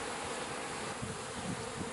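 Honey bees hum densely around an open beehive during a hive inspection, a steady, close, continuous buzz with no breaks and no voices.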